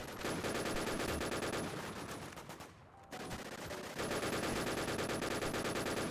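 Sustained automatic gunfire in the shooter RetrospectZ on a Lego-style map: dense, rapid machine-gun bursts, loud and close, with one brief pause midway before the firing resumes.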